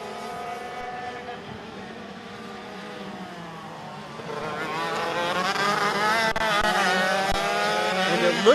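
Rok Shifter race karts from the Pro and Master classes at Sonoma run down the straightaway, a high revving whine that starts faint and swells louder and brighter midway as the pack approaches.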